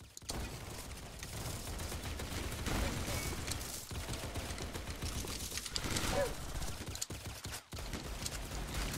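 Dense, sustained automatic gunfire from a KRISS Vector in the Roblox Weaponry game, a steady rattling barrage with scattered other battle noise, loud throughout and tapering briefly near the end.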